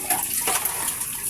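Running tap water splashing over dishes being washed in a home sink, a steady close wash of water with brief louder gushes, no voices.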